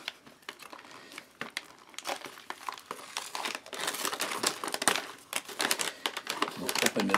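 A Slovenian MRE pouch is torn open by its tear pulls, with dense plastic crinkling and crackling that grows louder and busier toward the end. A voice may murmur faintly underneath.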